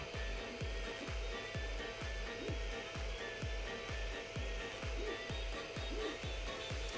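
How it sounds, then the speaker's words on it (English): Kingroon KP5L 3D printer printing a benchy, its stepper motors and fan whirring steadily while a regular train of short mechanical ticks repeats about twice a second, close and moderately quiet. "Currently printing a benchy to test this out and finish it up."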